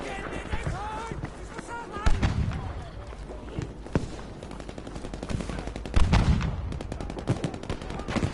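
Battlefield V conquest match gunfire: repeated rifle and machine-gun bursts near and far, with heavier booms, under players talking over voice chat.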